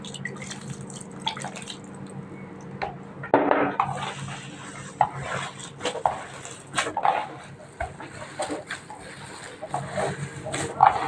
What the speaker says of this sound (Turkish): Ara sıra su koyarak yoğurmaya devam ediyoruz.